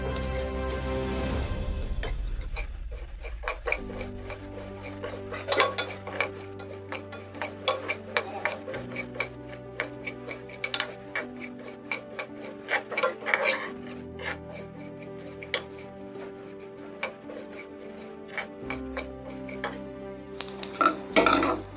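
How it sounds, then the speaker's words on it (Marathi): Sesame seeds are dry-roasted in a pan over a gas stove, with a steady scraping and rasping as they are stirred, dotted with irregular light ticks and clicks from the pan, close and fairly quiet. "यात टाकूया आपण तीळ, त्याला थोडे भाजून घेऊया"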